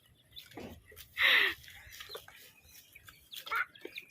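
A chicken gives a few scattered clucks and one louder squawk, with faint rustling and movement nearby in a quiet outdoor setting.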